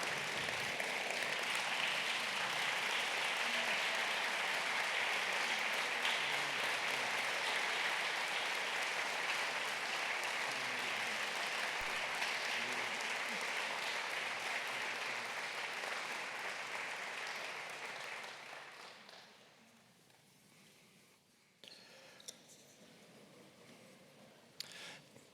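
Sustained loud applause fills a hall as an audience at the Caldwell State of the City event stands and claps for Donna's award, holding steady before fading out to quiet room sound with a few scattered claps.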